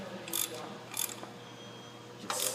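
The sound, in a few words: tightening cylinder head studs with a stud installer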